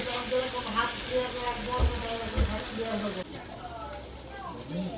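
Steady sizzling and crackling of onions and chillies frying in a pan, with faint clinks and a voice speaking intermittently over the cooking noise.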